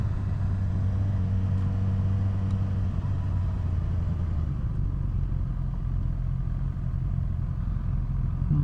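Motorcycles idling together at a small motovlogger meet in South-East Queensland, including a big Ducati, making a steady low rumble of several engines close by throughout, with no talk.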